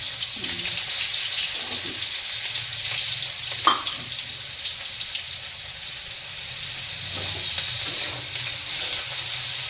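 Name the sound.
onion frying in hot oil on a griddle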